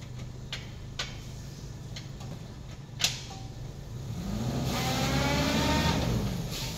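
A Daihatsu Taruna CSX 2000 with a smooth-running engine idles quietly under light ticking and creaks, then its note swells into a brief rev before easing off, with no talk.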